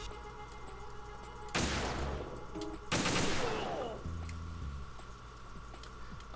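Gunfire from the video game Metal Gear Solid 2: two loud, dense bursts of rapid automatic shots, each lasting over a second, separated by a short gap, over a steady game soundtrack hum.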